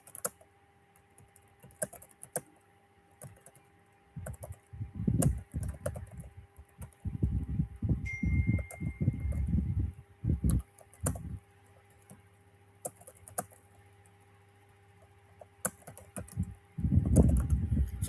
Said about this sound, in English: I'm typing your assignment